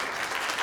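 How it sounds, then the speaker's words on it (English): Brief burst of audience applause at an intern conference, dense steady clapping from a crowd heard close and alone for under a second. "I guess I get a clap for acknowledging my age"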